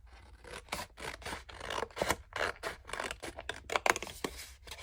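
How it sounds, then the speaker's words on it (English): Scissors snipping through a paper Valentine's card, close and quiet, with a rapid series of short crisp cuts and scraping strokes repeating unevenly across the moment, no talking. "Okay, I'm going to cut it."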